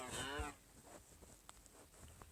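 A single low Minecraft cow moo sounds briefly at the start, followed by faint ambient background noise.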